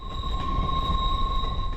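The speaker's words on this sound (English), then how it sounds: "Ramblin' Rose from Tennessee found herself on a train here in Arizona" Train rolling along a railway in Arizona, steady rumble of wheels on track with a sustained high metallic squeal, loud and close for a brief stretch.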